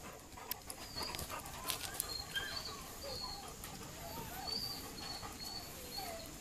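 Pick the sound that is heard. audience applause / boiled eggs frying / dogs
dogs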